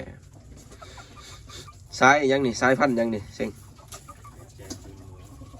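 Bantam native chickens cluck and call close by, with a burst of louder fowl sound in the middle while someone talks over them.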